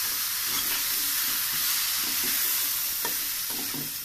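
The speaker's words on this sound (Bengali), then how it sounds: "এখন সবজিগুলো দিয়ে একটু নাড়াচাড়া করে নেব, বেশি ভাজবো না" Mixed vegetables stirred through hot oil with fried onions in a home kitchen pan, a steady close sizzle with scraping stir strokes throughout, no talking.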